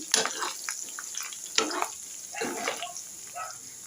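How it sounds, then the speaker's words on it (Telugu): Chicken pieces sizzle and crackle in hot oil in a pan for a pickle, with scattered stirring scrapes over a steady hiss, moderately close and without any talk. "ఇది పచ్చివాసన పోయే లోపల ఈ ముక్క కూడా బాగా వేగుతుంది"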